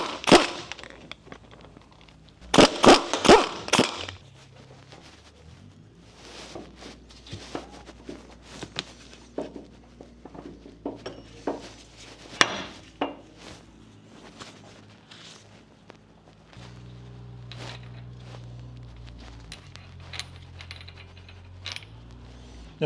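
Bolts coming off a Chevy/GMC lifted truck front axle, metallic clinks and clatter of tools and hardware, with a sharp burst of rattling early on and scattered clicks and ratcheting after, no talking.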